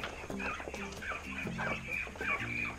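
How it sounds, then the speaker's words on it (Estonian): A rooster clucks repeatedly in short, rhythmic bursts among a flock of chickens and roosters on a farm, close and fairly quiet, with no talking. "See on kukk. Vaadake, kukkede kari on siin."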